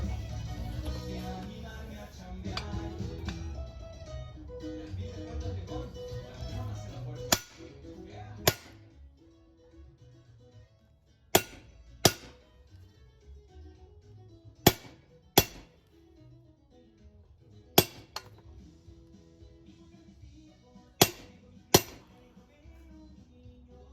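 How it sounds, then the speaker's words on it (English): A small hammer strikes a socket to press out a Comptech camber bushing on a Honda NSX suspension arm, about ten sharp metallic raps in loose pairs, loud and close, over faint background music. "use this socket to press this out, and a little hammer action to do the trick"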